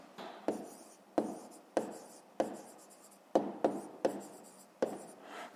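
Pen strokes on paper during a fifth-grade maths exercise, a series of about ten short scratchy bursts at an uneven rhythm, close and clear with no voices.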